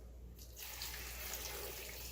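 Water pours from a tap into an Instant Pot holding chopped vegetables, a soft steady splashing stream that swells after a quiet start and runs continuously, faint and with no talking.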